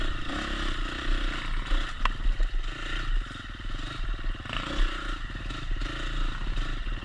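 A motorcycle races through wooded trail terrain, its engine droning and pulsing continuously with shifting revs, accompanied by clattering and scraping from the ride.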